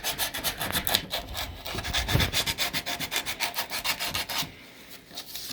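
Wood being hand sanded to match a hollowed area gives a steady run of rhythmic back-and-forth rasping strokes, close and fairly soft, with no voices.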